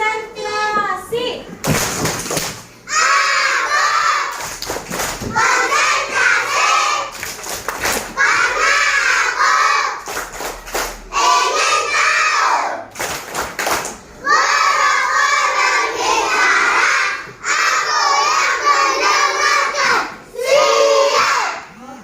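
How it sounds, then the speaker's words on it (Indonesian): A class of young children in an Indonesian classroom chants together and claps in sharp, loud, evenly spaced groups of claps between the sung phrases, their voices crowding the room. "sebelum mau belajar dulu kita tepuk konsentrasi dulu biar konsentrasi"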